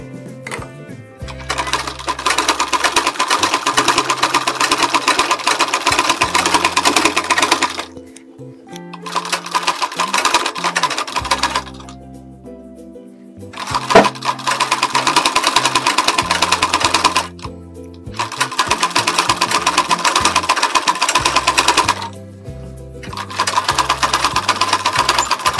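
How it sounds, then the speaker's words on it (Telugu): A sewing machine stitches a blouse in long loud runs of rapid mechanical whirring, stopping briefly several times between bursts before starting up again. "ఇలాగా మొత్తానికి రెండవ స్టిచ్ వేసుకుంటూ రండి."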